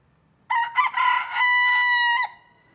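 A single broiler-breed rooster crows once, loud and close, the call rising then holding a long drawn-out final note before cutting off.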